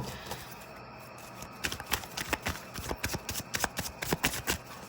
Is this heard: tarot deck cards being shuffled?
yes